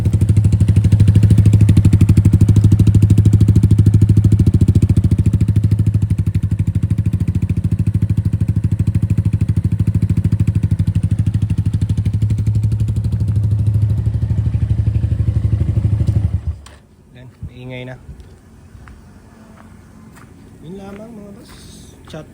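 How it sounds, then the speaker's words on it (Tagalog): A Keeway cafe racer motorcycle with an upgraded exhaust pipe idles loudly with a steady, throbbing low rumble for about sixteen seconds, then cuts off abruptly, leaving faint clatter and a voice speaking. "tunog ng pipe natin"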